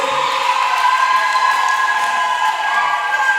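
High, sustained ululation rises from a church congregation celebrating at a Christmas Eve vigil, heard over a continuous crowd and music background.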